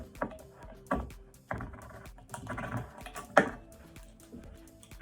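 A manual can opener grinds against a can, struggling to cut through, giving a run of sharp clicking, crunching bursts about once every second, close and fairly loud with no voices.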